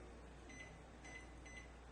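A kitchen timer being set for cooking, giving three short, faint electronic beeps spaced about half a second apart over a steady background hum.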